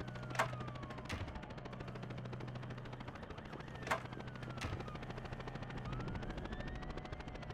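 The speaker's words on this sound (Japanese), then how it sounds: "あのヘリの音してる。" Steady low helicopter rotor thrum runs throughout, with a few sharp gunshot cracks scattered over it, like game combat audio from a horror video game.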